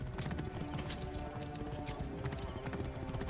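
Horse galloping in Assassin's Creed Origins on PS4, with steady, close clip-clop hoofbeats throughout and an occasional faint whinny.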